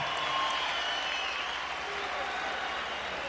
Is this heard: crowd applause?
yes